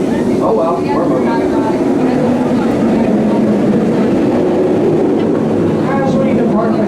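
Serengeti Express amusement park train at Busch Gardens pulling out of the Congo station, a steady low rumble of wheels and cars rolling along the track with faint talk from riders over it.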